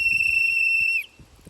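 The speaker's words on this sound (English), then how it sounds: "you can just give a long whistle" A referee blows one long, shrill whistle to signal the end of a quarter, sustained for about a second before cutting off, with faint background noise after it.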